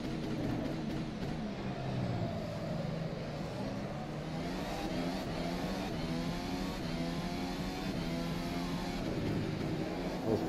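Formula SimRacing FSR 2018 development car in the rFactor 2 sim racing game, on the China circuit's back straight with DRS open; its engine screams at high revs, pitch rising and shifting through gears, loud and steady with no voices.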